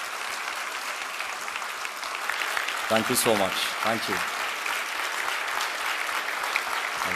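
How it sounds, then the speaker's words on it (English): Audience applause at an international seminar, a sustained wash of clapping from a crowd while someone speaks briefly over it. "all of you could just applaud their good work"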